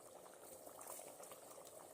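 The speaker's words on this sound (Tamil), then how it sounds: "இப்போ நல்லா கொதிக்குது." Water at a rolling boil in a pot while cooking vegetable biryani, steady close bubbling and gurgling without pause, fairly quiet overall.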